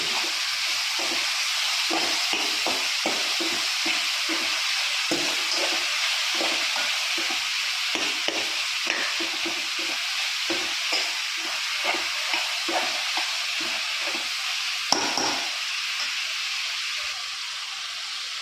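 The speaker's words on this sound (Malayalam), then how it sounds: "സ്പൂണെടുത്ത് നല്ലതുപോലെ കുഴച്ച് കൊടുത്തിട്ട്" A spoon scraping and stirring squid roast in a hot pan, a steady series of soft clinks and scrapes over a constant sizzling hiss, close and without talk.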